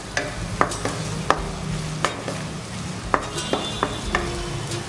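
Onions and chopped green chillies sauté in a pan for a bottle gourd Manchurian, a steady sizzle broken by sharp, evenly spaced clacks of a spoon stirring against the pan.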